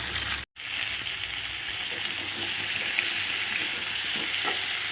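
Vegetables with grated ginger, turmeric and cumin powder sizzle steadily in a hot pan, a close, continuous frying hiss with soft stirring scrapes and a brief break near the start.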